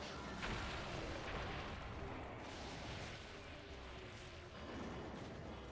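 Resonant booming blasts from a monster in a video game, a dense, continuous barrage of loud impacts with rumbling low end and crackling bursts, steady throughout with brief swells.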